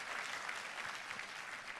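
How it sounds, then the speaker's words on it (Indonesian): A church congregation claps steadily and densely together for Jesus during a worship service, a continuous, even wash of many hands sustained throughout at moderate loudness with no talking over it. "Boleh saya dengar tepuk tangan yang paling meriah buat Yesus Tuhan kita."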